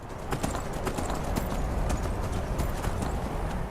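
Hooves clip-clop in a steady galloping rhythm from a horse ridden through the mountains in the video game Skyrim, loud and continuous for the whole stretch with no talking.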